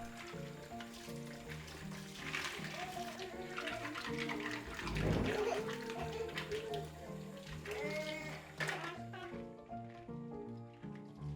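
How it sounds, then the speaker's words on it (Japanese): Clams being scrub-washed by hand under running tap water in a home kitchen, a steady close gush of water with rubbing and splashing, while voices and household sounds carry on faintly in the background. "こすり洗いをしてきれいにしましょう"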